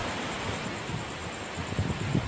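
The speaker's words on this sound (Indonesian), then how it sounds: "desiran debur air di pantai, masih terdengar" Waves breaking on a beach near a shrine, a steady close wash of surf with wind noise and a few rising swells toward the end.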